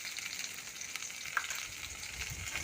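Spices frying with salt and turmeric in a pan, a soft continuous sizzle with light stirring and one brief clink, fairly quiet and without speech.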